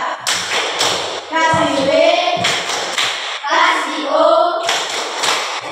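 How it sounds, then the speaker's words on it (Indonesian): A classroom of children gives rhythmic group hand clapping in short bursts, mixed with chanting voices and a teacher's talk, fairly loud and close. "Tepuk hebat untuk kelompok 3. Tepuk hebat."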